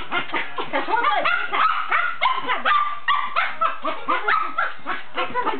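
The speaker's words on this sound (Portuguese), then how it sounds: "Cachorro doido." A dog barks and yips repeatedly up close, with whiny, excited yelps in a quick, uneven rhythm.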